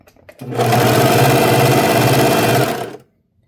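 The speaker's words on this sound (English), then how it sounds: "With sergers, you don't need fabric." A Brother 1034DX serger runs with no fabric, chaining off thread: a steady, close mechanical whir with a fast stitching rhythm lasting about two and a half seconds, then stopping.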